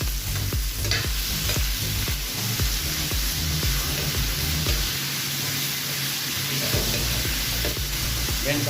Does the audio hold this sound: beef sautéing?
yes